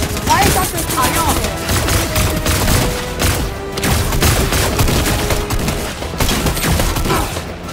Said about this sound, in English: Those are like mini guns.